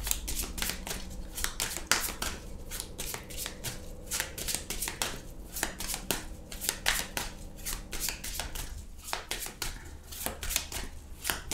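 Tarot cards being shuffled by hand in a steady run of crisp, papery riffles and soft slaps, close and clear, continuing without pause and with no talking.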